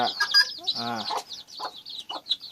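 Chickens on a farm, including hens known to eat eggs and small chicks, cluck close by in a string of short, choppy calls. A brief louder squawk comes early, and the clucking keeps going unevenly to the end.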